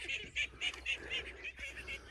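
Geese on a small poultry farm honk in a rapid, repeated series of nasal calls, about eight in a row, close and fairly loud with no talking.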